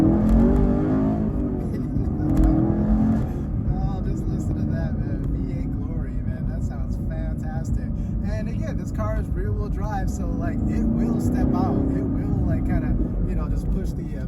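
Chevrolet Camaro SS 1LE with a V8 engine pulling hard through the gears, a loud steady engine roar with rising pitch sweeps, heard from inside the car with someone talking over it.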